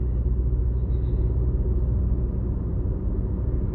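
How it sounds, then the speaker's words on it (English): A car's steady low rumble of road and engine noise while driving, continuous and close, with no talk over it. "The wheels on this car are turning."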